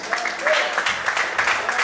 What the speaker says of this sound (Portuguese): Quantos podem aplaudir e exaltar o Senhor bem forte